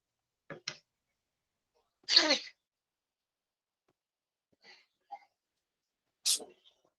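A few sharp sneezes burst out close by in a quiet room, spaced by pauses of silence, with faint small noises between them.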